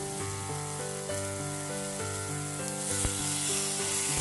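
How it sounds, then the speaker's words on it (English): Chicken sizzles steadily in a hot stainless steel pan with a little oil over medium heat, a continuous crackling fry close by with a faint tonal hum in the background. "apply little oil to the frying pan and put chicken."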